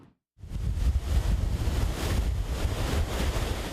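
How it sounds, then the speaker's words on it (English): Choppy ocean surf at a beach, heavy white water with hard breaking waves, roaring continuously and loudly with strong wind buffeting the microphone throughout. "Lots of white water, really choppy, really hard waves."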